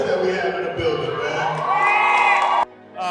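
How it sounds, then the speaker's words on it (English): Crowd in a building cheers, whoops and shouts loudly and steadily for nearly three seconds, with voices mixed in, then cuts off abruptly into near silence before a little noise returns. "Let's give a round of applause"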